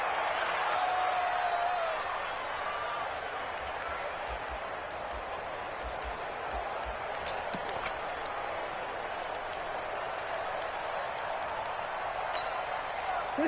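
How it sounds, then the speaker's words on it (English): Stadium crowd roaring in a PS4 football game during a final two-point conversion attempt, a broad sustained wash of cheering at moderate level with faint clicks and ticks layered over it. "Listen to this crowd now."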